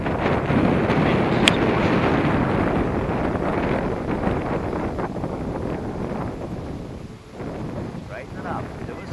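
Strong wind buffets the microphone while sailing, a loud rumbling roar that eases and gusts, with a voice speaking faintly underneath.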